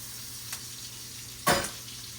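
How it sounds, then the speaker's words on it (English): Meat sears in a hot pan for a high-protein breakfast, a low steady sizzle with one sharp louder burst of hissing as it is moved, close and alone. "But I sear this literally about maybe a 2-minute total sear, a minute on each side."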